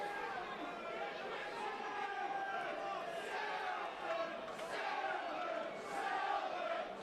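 A riled-up football crowd at an NPL play-off final between Marine and Macclesfield chatters and shouts continuously, with distant surges of cheering and a commentator talking over it.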